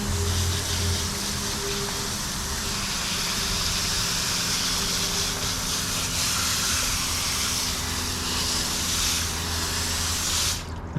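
Water sprays steadily onto coated car wheels, rinsing off tire dressing in a continuous loud hiss that runs unbroken to the end, with no talk.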